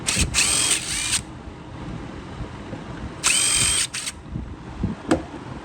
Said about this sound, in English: So to remove the carburetor on these, it's relatively easy. We're just going to undo both of these bolts.